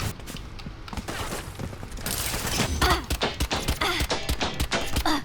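Rapid gunfire bursts from the video game Valorant, a dense run of sharp repeated shots that grows louder and more clustered toward the end.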